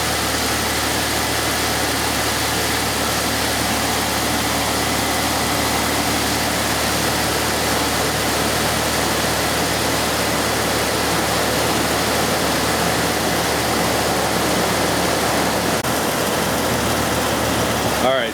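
A Chrysler, Dodge or Jeep engine idling steadily during an evap leak detection pump check, a loud, continuous rumble with broadband hiss that stays constant throughout and has no breaks.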